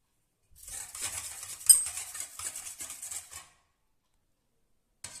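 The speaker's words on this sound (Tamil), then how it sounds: "இதில் கொஞ்சம் தண்ணி சேர்த்துட்டு நல்லா அடித்து விட்டுறலாம்." Buttermilk thinned with water being beaten briskly in a bowl for making buttermilk chillies, a close, busy run of clinking, sloshing whisking for about three seconds, then a single short knock.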